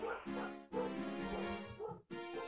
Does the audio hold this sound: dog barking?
yes